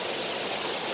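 A stream in Iao Valley flows past a water catchment grate, giving a constant, near, even hiss of running water and nothing else.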